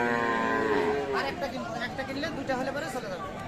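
A Friesian dairy cow moos loudly at a busy cattle market in Aftabganj, Dinajpur, with a crowd chattering and someone talking over it.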